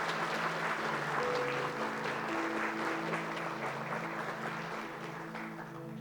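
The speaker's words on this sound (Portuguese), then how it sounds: "E vamos dar uma salva de palmas à palavra de Deus." A congregation claps together during a Catholic Mass after the Gospel reading, a sustained wash of applause from many hands with a low organ or keyboard tone sounding underneath.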